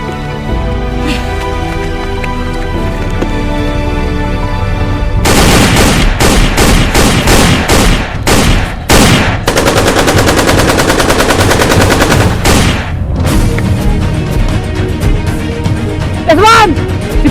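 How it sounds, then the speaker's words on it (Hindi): Gunfire in a war short film: bursts of rapid machine-gun fire and loud single shots ring out close and heavy over a dense battle background, with rhythmic volleys and brief pauses. "ऊपर से फायर आ रहा है"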